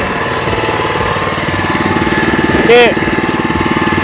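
A grass cutter engine runs in its slower K gear with a loud, close, rhythmic chugging knock that pulses steadily throughout, broken by a brief voice.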